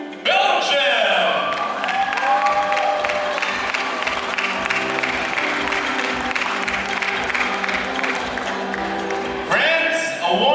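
Sustained applause and cheering from a pageant audience at the Miss Glamour International 2019 coronation night, loud and continuous with whoops and shouts mixed in, swelling briefly at the end.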